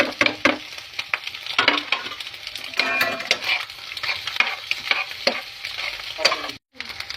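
Potatoes frying in a pan, stirred with a utensil while cooking noodles, giving a steady close sizzle broken by repeated scraping strokes, with no talk.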